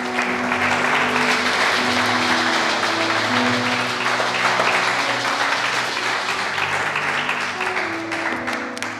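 A church congregation applauds loudly and continuously through a worship service, a dense wall of clapping with crowd voices mixed in from start to finish.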